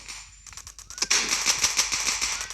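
Gunfire in the game Dude Theft Wars: a close, rapid string of sharp, crackling shots that starts about half a second in and keeps going in a fast automatic rhythm.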